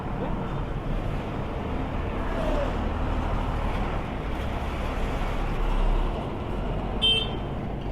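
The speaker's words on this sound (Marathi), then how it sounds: "खूपच ट्रॅफिक आहे" Steady road traffic on a busy route out of Pune, a continuous broad rumble of passing vehicles mixed with wind buffeting, fairly loud throughout, with a brief sharper hiss near the end.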